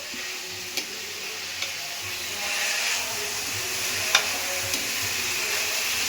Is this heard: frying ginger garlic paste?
yes